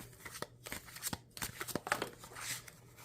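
Tarot cards shuffled by hand before a draw, a run of quick papery riffles and flicks in uneven bursts, close and fairly soft, with no voice over them.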